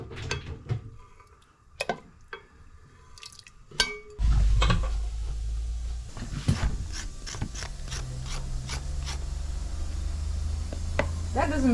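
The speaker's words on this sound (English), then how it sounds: "It's the famous cutting without a chopping board." Knife strokes scrape and tap unevenly against camel meat cut without a chopping board, then a steady low rumble and hiss take over while the scraping cuts continue close by.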